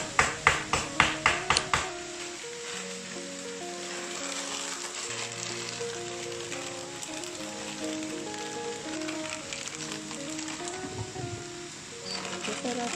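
Ginger, garlic and coriander fry in a pot with a steady, hissing sizzle that runs the whole time, opened by a quick series of sharp taps and accompanied by tuneful background music.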